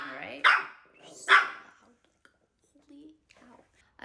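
Two sharp, close dog barks ring out early, followed by quieter scattered yips and faint sounds with near silence between.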